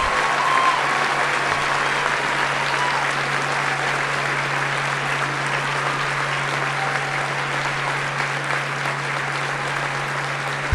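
Steady, sustained audience applause fills a high school graduation ceremony at Woodbury High School, dense and even from start to finish with a faint hum beneath.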